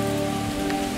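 Heavy rain pours down onto a hard surface in a loud, even, continuous patter that fills the whole moment, with no one speaking.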